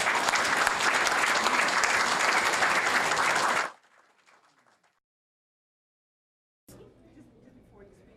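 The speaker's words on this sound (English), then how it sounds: "Please give a warm round of applause to Mr. Cole Williams, please." Warm audience applause at a career pathways end-of-year celebration, loud dense clapping for several seconds that cuts off abruptly, followed by near silence and then faint room sound with a little talk.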